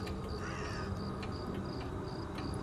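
A crow caws a few times, moderately distant, over a dense, steady background of broadband noise.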